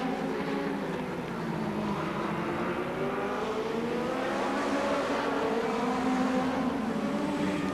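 USAC midget race cars roar around the track during a heat race in a continuous, loud engine din, with cars sweeping past and faint tire squeal.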